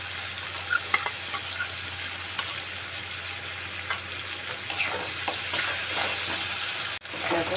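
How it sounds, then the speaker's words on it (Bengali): Spices with coriander, cumin and ginger sizzling in oil in a pan, a constant close frying hiss with scattered stirring clicks and a brief drop in the sound just before the end. "দেখো মশলার থেকে তেল বেরিয়ে যাচ্ছে।"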